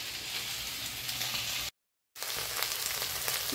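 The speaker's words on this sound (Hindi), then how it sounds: "उसके पहले सब्जी में तड़का लगाई हूँ भाई, वो भी तो चला दूँ नहीं तो जल जाएगी" Vegetable curry of potato, onion, peas and tomato with its tempering sizzling in a pan, a steady close crackling hiss broken by a brief gap of silence, with no voices.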